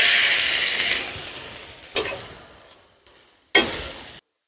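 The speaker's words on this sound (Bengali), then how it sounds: "আমি এখন পেঁয়াজ আর কাঁচামরিচ দিলাম" Onions and green chillies, added after dried red chillies, sizzle loudly in hot oil for a Sylheti lai leaf chutney, with a strong burst that fades, then two sharp renewed sizzles as more goes in.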